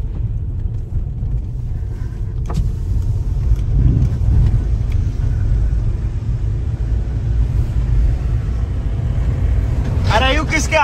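Tractor engine running steadily while driving through a village farm area, a continuous loud low rumble throughout with people talking over it.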